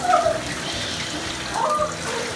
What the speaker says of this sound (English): Yeah, you're rinsing the whole thing out.